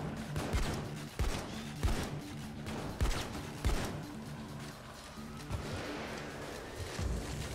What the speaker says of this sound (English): I heard a sniper